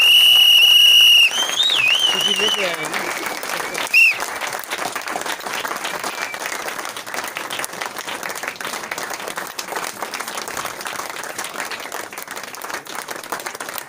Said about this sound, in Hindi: Kindly give them a big round of applause. जोरदार तालियां और सीटियां हो जाएं।